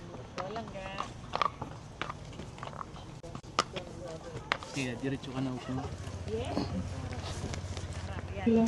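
Horse hooves clip-clop at Camp John Hay in Baguio. The irregular thuds sit under close conversation and a voice outdoors.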